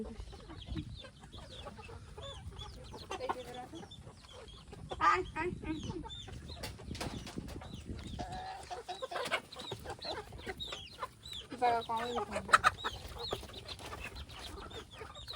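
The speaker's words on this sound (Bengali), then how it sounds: "ছোট মুরগি কি ওর ভিতরে?" Chickens on a village farm clucking in short, scattered bursts, close and fairly quiet, with a person's voice speaking intermittently among them.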